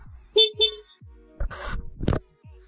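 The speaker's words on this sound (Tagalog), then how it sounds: "Try natin yung busina." Two short, quick horn beeps close by from a Honda Click 125i scooter after a battery change, followed by a sputtering engine crank and a couple of mechanical clunks.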